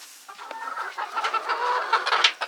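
White laying hens cluck close by in a short run of soft, rapid clucks and murmurs, with no talk.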